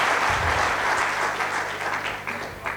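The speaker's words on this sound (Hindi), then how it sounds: "एक बार तालियां बजाकर सत्येंद्र भाई को इजाज़त दें।" Audience at an all-India kavi sammelan mushaira in Guna breaks into loud, sustained applause, a thick wash of clapping from many hands that gradually thins toward the end.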